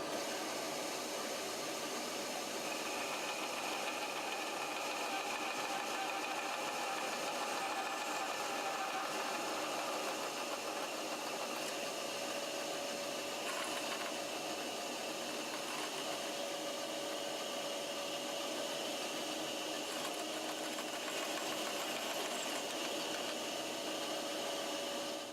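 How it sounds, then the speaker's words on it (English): A power saw cutting out wooden handle pieces, a continuous loud buzzing drone with steady vibration throughout and no pauses or talk. "Now we'll get them sawn out."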